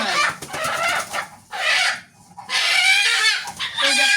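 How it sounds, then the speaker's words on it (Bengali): A brooding hen sitting on her eggs clucks loudly and close, in repeated bursts with brief pauses, her calls rising into a crowing-like cackle at times. "মুরগি খালি ডিম পারে ডিম পারে এতদিন ডিম পারলো বসে না আজকে দুদিন থেকে বসে আছে"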